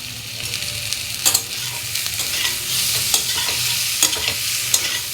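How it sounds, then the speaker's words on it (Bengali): Bengali spice paste with salt and whole tomato sautéed in oil for a fish curry with papaya, a steady close sizzle under brisk, repeated spatula scrapes and knocks against the pan. "মশলাটা ভালো করে কষিয়ে নেব।"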